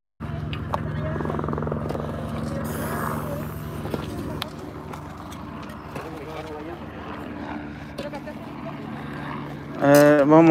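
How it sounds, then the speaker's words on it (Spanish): A helicopter flies over a hillside fire, its steady rotor thump pulsing continuously in the background while someone talks over it, ending with a louder rush of noise. "Ahí viene otra vez el helicóptero."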